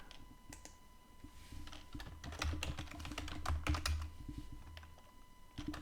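Soft keystrokes on a computer keyboard while logging in, a quick irregular run of close clicks that thickens in the middle and tapers off, faint and alone.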